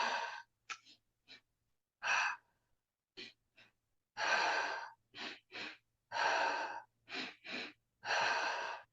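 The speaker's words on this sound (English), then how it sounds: "Breathing in and out. Double inhale," A guided morning breathing exercise: a run of sharp double inhales and longer exhales, each breath a distinct airy burst with silent gaps between, close and fairly loud, no talking.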